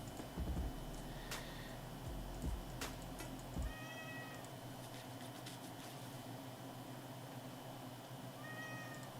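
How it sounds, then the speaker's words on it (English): A house cat meows repeatedly indoors, with a few separate, clear calls spaced several seconds apart over a low steady fan-like hum. A few sharp knocks come near the start. "The cat will not shut up."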